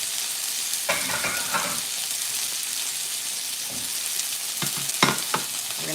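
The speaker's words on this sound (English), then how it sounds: "We're getting almost on our saute there." Vegetables sauté in a hot pan with a continuous bright sizzle, broken by a few bursts of stirring and clattering utensil strokes near the start and toward the end, with nobody speaking.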